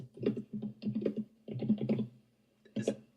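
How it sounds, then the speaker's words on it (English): Rapid clicks of keys on a computer keyboard come in bursts of typing with short pauses, close and fairly loud, and no one speaks. "Is that you typing?"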